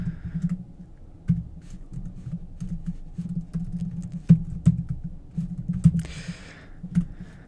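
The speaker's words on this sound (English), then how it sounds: "Whoop, I cannot type." Typing on a computer keyboard while writing HTML code: scattered soft clicks and a few sharper key taps over a low steady hum, fairly close, with no talking.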